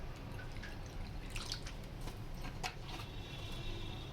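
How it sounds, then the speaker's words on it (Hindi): Vinegar is poured from a spoon into a bowl of Manchurian sauce, giving a few soft, brief trickles and drips over a quiet kitchen background. "अब 3 चम्मच इसके अंदर हमने सिरका डालना है।"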